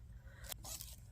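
Scissors snip through yarn while crocheting a beanie, a single quiet cutting scrape mid-clip, close and brief against faint background hiss.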